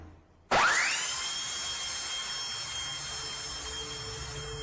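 A surgical saw during an operation gives off a loud, steady high-pitched whine like a dentist's drill. It starts abruptly after a quiet moment and holds constant to the end.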